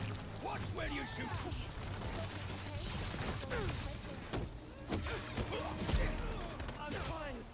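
Gunfire in the video game Marvel's Spider-Man 2: steady scattered shots and impacts beneath frequent shouting voices, fairly faint and mixed into a busy battle.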